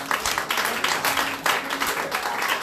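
A church congregation claps together in steady, dense applause, a continuous patter of many hands with a few louder peaks, close and sustained throughout.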